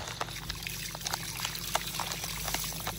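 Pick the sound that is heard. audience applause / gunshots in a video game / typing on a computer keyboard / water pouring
water pouring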